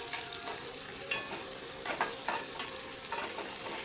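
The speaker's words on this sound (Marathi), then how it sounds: "आता त्याला छान तडका आलेला आहे, तर आपण त्यामध्ये आता कांदा टाकूया." Onion frying in a mustard seed and cumin tempering, a busy crackling sizzle with sharp spatters and stirring clicks every second or so, close and without talk.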